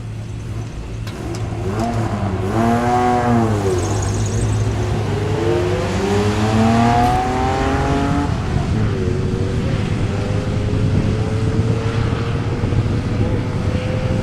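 The Back to the Future DeLorean time machine launches in a drag race, its engine revving and rising in pitch as it accelerates, loud and sustained, with a second engine and rising whine later on; no talk is heard.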